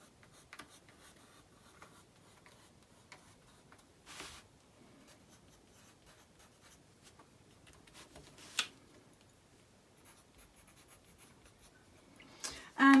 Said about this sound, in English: I'll mark the fold line with a dashed line through the centre.